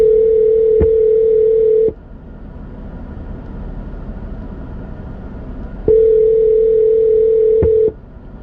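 A steady telephone line tone plays while a call is placed to a landlord, sounding in two long continuous bursts separated by a quiet gap, loud and clear with no talking.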